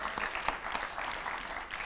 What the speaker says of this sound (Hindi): पहले ताली बजा दीजिए।